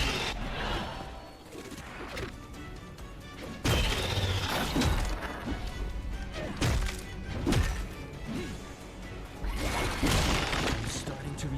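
Shatter ultimate ability in Atlas Fallen smashing enemies, a run of heavy crunching impacts and shattering crashes in rapid bursts, loud and close, with a voice talking in between.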